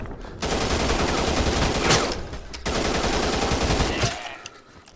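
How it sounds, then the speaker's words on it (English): Rapid automatic gunfire in a PlayStation VR war shooter game, two dense sustained bursts separated by a short gap, loud and close, the second tapering off at the end. "you got the guns, so you can shoot"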